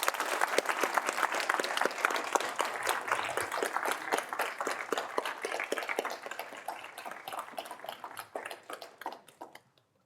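An audience of attendees at a physics lecture series on the gravitational S-matrix gives a round of applause, rapid dense clapping that stays strong for several seconds and then thins out and fades away near the end.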